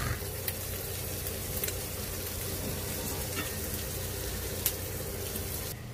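Steady sizzle of birria tacos on a hot griddle, a dense continuous frying crackle close by with a few sharper pops and scrapes, no talking.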